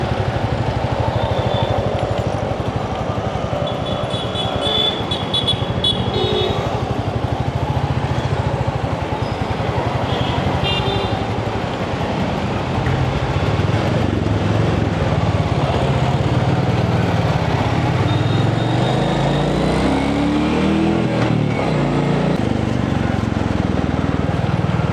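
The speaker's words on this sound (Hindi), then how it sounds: "तो अभी कचरे की गाड़ी, आपको सबको बताओ कि गाड़ी वाला आया" A garbage collection truck arrives on a street, its engine rumbling steadily close by amid broad outdoor traffic noise, with a low engine tone rising and sweeping toward the end and a few faint distant voices.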